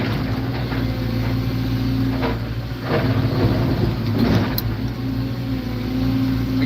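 A Cat 317 excavator's engine runs steadily with a constant low drone that swells slightly in the middle, heard alone and up close from the cab during demolition of an old dairy farm.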